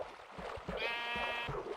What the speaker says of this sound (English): No, that's a sheep.